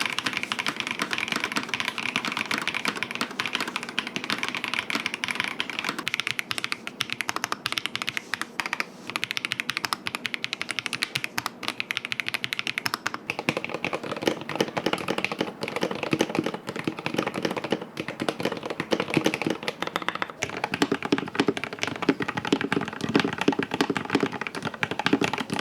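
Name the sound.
typing on mechanical keyboards, Logitech Alto Keys K98M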